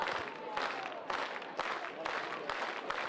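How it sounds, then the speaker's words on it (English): A baseball crowd of about 1,737 Gulls fans on Fan Appreciation Night claps in a steady rhythmic chant, with crisp broadband bursts at roughly half-second intervals. An announcer talks over it. "now we might hear 1737 crowd doing the Here they go. clap"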